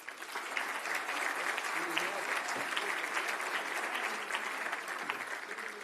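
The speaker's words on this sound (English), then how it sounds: "Let's give him a warm round of applause." An audience applauds to welcome a speaker at an Economic Club of Canada event, a steady dense clapping wash filling the room throughout.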